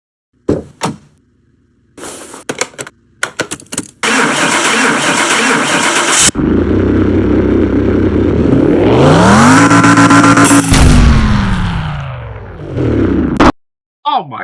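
A car engine in Car Mechanic Simulator 2021 cranks and roars to life loudly, revs up and down, then cuts off abruptly as it blows up, with a few clicks and door clunks before it.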